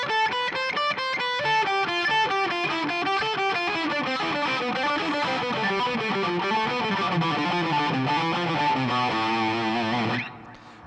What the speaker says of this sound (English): Looking at 3-note per string shapes, you can do things like this.